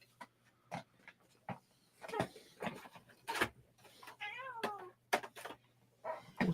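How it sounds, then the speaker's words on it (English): A house cat meows repeatedly in a room, several close, rising and falling cries in a short series, with a brief rustle of handling between calls. "Kitty came over here."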